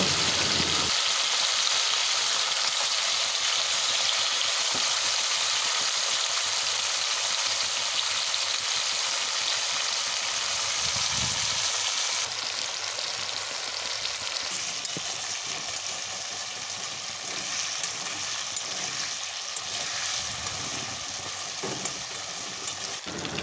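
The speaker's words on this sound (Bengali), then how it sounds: "তেলের মধ্যে সবকটা নিংড়ে মাছ একেবারেই তুলে দিলাম, কারণ আমি ঝুরি ভাজা করব।" Small fish deep-fry in hot oil with a loud, steady sizzle that fills the whole span. The crackling texture shifts slightly midway, and no voices are heard.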